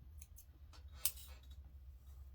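Scissors snip thread tails on quilt pieces, a few quiet, quick clicks spread across a short, otherwise hushed moment with faint background hum.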